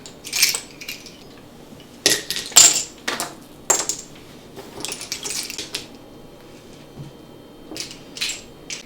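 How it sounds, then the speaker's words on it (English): Seashells shaken from a Dollar Tree jar patter and clatter into a glass vase centerpiece in several bursts, crisp and close, with short pauses between pours. "Also from the Dollar Tree, I bought this jar of shells. So I thought, we'll sprinkle these in among it."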